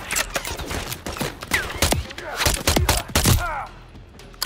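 Sniper rifle gunfire in Call of Duty: Modern Warfare III, with sharp, punchy shots scattered across a few seconds amid game effects, thuds and debris, with voices talking briefly between the shots.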